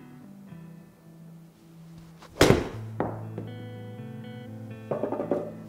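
A TaylorMade iron struck fat on a golf range, catching turf, a single dull thump with a brief follow-on thud, fairly close, amid quiet surroundings.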